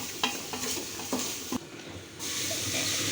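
Steady scraping and stirring of meat in a pot with a soft sizzle underneath, a few clinks of the utensil against the side, close by.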